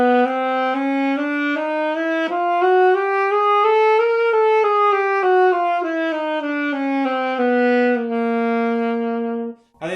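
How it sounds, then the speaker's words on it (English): A saxophone plays a one-octave chromatic scale starting on G, climbing note by note and then descending back to the start, a sustained solo line played up close with no talking. "Now let's check that out on the saxophone then."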